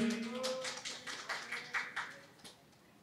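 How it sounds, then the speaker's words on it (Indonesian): Audience applause for a panel speaker at a health coverage talk session, a soft spatter of scattered claps rising briefly and fading within a few seconds, fairly faint and distant in a hall. "tepuk tangan juga untuk Ibu Seli"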